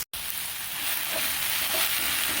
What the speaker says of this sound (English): I'll keep still frying this